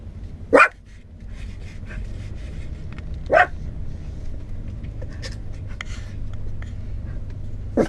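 Molly the dog lets out a few single sharp barks, spaced seconds apart, over a steady low background rumble inside an RV on the road.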